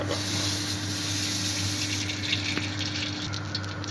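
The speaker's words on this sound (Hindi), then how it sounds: "तो हम देगची में ऑयल डालेंगे तकरीबन 1 कप" About a cup of cooking oil goes into a deep cooking pot at the start of a vegetable pulao: a steady, continuous rushing pour, fairly loud and close, over a low constant hum.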